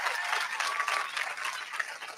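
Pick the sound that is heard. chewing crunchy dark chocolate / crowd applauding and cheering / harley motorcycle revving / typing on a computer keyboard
crowd applauding and cheering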